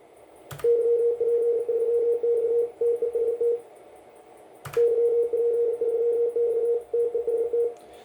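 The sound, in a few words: radio 2 transceiver tone over Ethernet link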